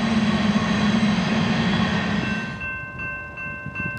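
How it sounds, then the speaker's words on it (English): A loaded BNSF grain freight train departing Whitefish, Montana rumbles past with a steady low drone and high tonal whine, fading as it moves off, with faint bell-like tones near the end. "Our first train of the day is a loaded grain train departing Whitefish for points west."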